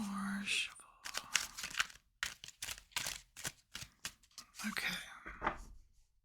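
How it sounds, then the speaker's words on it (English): Playing cards are riffled and shuffled close by in a run of quick, papery flutters with brief pauses between them. "One more shuffle."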